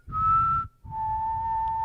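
A clear whistle sounds twice nearby, a higher tone followed after a brief gap by a longer, slightly lower steady note.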